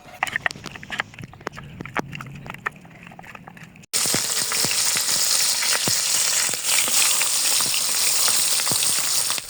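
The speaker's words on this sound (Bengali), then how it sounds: "এবার মাছের মাথাগুলো লবণ হলুদ মাখিয়ে ভেজে নিতে হবে" Fish heads coated in salt and turmeric fry in hot oil, a quieter crackle with sharp pops giving way to a loud, steady, close sizzle.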